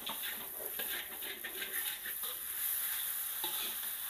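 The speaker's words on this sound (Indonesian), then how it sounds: "Setelah kita masukkan toge, boleh langsung kita aduk ya." Bean sprouts and kwetiau noodles stir-fried with shrimp paste crackle in a hot pan, a soft, steady sizzle broken by repeated stirring and scraping strokes, with no one speaking.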